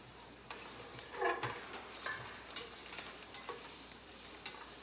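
Butter and flour cooking down together in a pan, a soft steady sizzle broken by light scrapes and taps of stirring, close and fairly quiet, with no talking.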